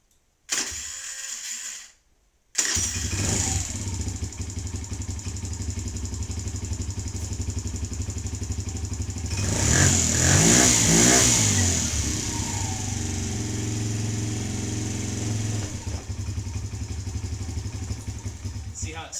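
A Kawasaki KFX50 ATV with a carburetor fault is started after a short pull. The engine idles unevenly up close, then revs up loudly and falls back to a rough, wavering idle.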